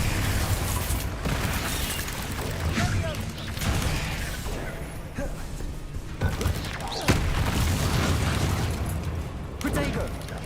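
Bombarda and Confringo spell blasts in the video game Hogwarts Legacy, a dense barrage of booming explosions and thuds layered with combat noise and game music, recurring throughout at steady loudness.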